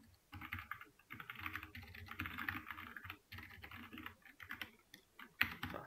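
Continuous fast typing on a computer keyboard while writing Python code, a dense run of key clacks in bursts with brief pauses, close and fairly quiet.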